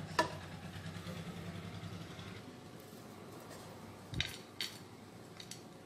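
Cooked ponnaganti greens tempering is scooped out of a pan, with a faint scrape and clink of a spoon against metal at the start and again near the end.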